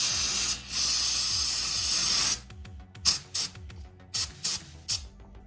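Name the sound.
spraying brake cleaner into engine head ports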